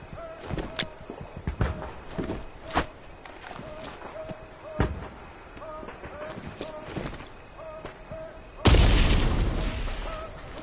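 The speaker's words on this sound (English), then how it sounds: "Grenades are a powerful explosive item. Equip one now and throw it towards the enemies." A grenade bursts near the end with a heavy, loud boom that trails off slowly, following a stretch of footsteps and scattered clatter in the Vietnam-era shooter Hell Let Loose: Vietnam.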